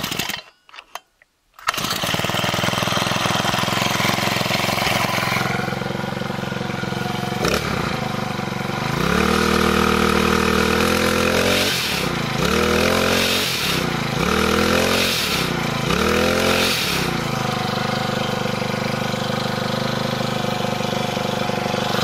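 A brand-new GeoTech GT-4 36 BP petrol brushcutter starts after a short silence, then runs steadily near and loud, its engine note rising and falling through several revs before holding a constant drone.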